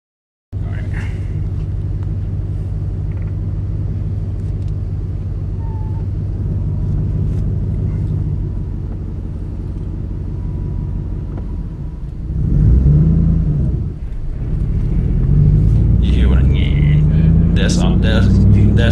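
A manual-transmission car engine lugging near stall, a low steady rumble with a rough surge near the end, under people talking inside the car.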